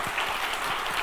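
A church congregation applauds during an infant baptism at a Sunday worship service, a dense burst of clapping that fills the room at a steady level for a short moment.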